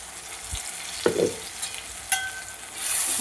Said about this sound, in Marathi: आता हा मसाला पूर्ण परत पुन्हा एकदा भाजून घ्यायचा चांगला.